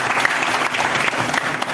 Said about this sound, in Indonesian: Maka itu kita coba berikan tepuk tangan untuk GPI.